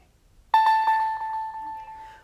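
The Nintendo DS startup chime sounds after a brief quiet lead-in: one bright, clean bell-like tone with a soft shimmer that rings and slowly fades.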